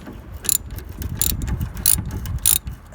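A loose aftermarket hose clamp being unscrewed on the lower radiator hose of a 1963 Mercury with a 390 FE engine, heard as a run of close, quick metallic ratcheting clicks in short bursts.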